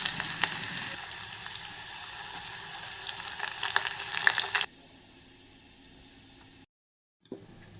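Mustard seeds, curry leaves and shallots sizzle in hot oil for a tempering, a loud steady frying hiss with crackles that drops lower partway, then cuts to silence and returns briefly.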